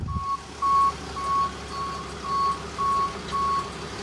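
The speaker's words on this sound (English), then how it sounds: "Here it is on the tow truck." A tow truck carrying a Ford Expedition to transmission work backs up, sounding seven evenly spaced reversing beeps over a low engine rumble, with no talking.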